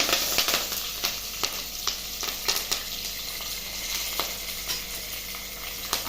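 Curry leaves, dried red chillies and tempering seeds sizzle and crackle in hot oil, a dense close frying hiss broken by frequent sharp pops and spatters throughout.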